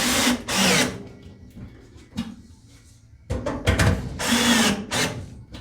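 Cordless power drill driving small screws into a 1999-2003 Ford F150 gas tank, several short whirring bursts with pauses between them, close and loud, no talking.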